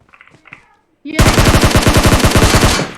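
Rapid automatic gunfire from the PUBG Mobile video game on the Erangel map bursts in loud and near after about a second of quiet voices, then rattles on steadily for roughly two seconds.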